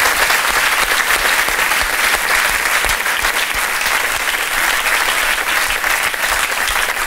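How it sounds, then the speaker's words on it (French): Studio audience applause on a French television talk show, a loud, sustained wash of many hands clapping that stays even for about seven seconds. "je vais l'applaudir"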